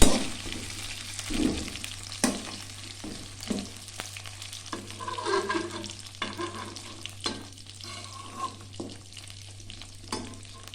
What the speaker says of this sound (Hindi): इसको हम लाइट से फ्राई करके